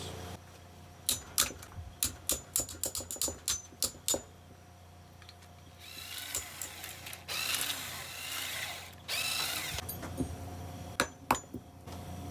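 Ratchet wrench loosening the cylinder head bolts on a two-cylinder engine being torn down for scrap: a quick run of sharp clicking ticks, then louder grinding bursts and a few final clicks, close but fairly quiet.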